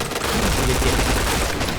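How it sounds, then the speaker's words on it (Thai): Sustained automatic fire from a T77 rifle in the shooter game Point Blank, a dense rapid burst of shots, loud and close with no speech. "ขอถือที่เจ็ดยิง ยาวๆเลยละกันนะครับ"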